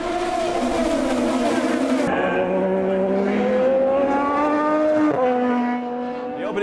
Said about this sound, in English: Indy cars will take over the waterfront streets for the Firestone Grand Prix of